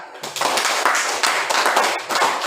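Applause of hand claps fills a classroom-style session, a dense, steady burst of many hands clapping together at moderate loudness, starting abruptly and holding for a couple of seconds without talk.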